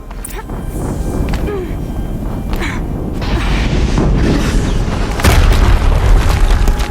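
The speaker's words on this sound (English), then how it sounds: "Another explosion." A loud explosion in the video game Horizon Zero Dawn: a rumbling, crackling mix swells, then a heavy low boom bursts out near the end and keeps roaring.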